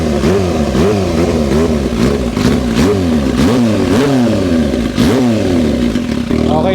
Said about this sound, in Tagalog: Yung throttle niya kahit konting pihit lang, ang lakas ng effect sa tambucho